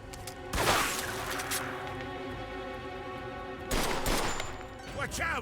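Bursts of rapid gunfire from the video game Mafia 2 crackle at the start and again near the end, with game sounds and music tones humming underneath.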